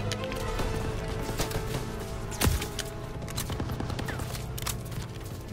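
Gunfire in Call of Duty WWII: continuous distant battle crackle with scattered shots and one loud, sharp blast near the middle, all under a steady noisy combat background.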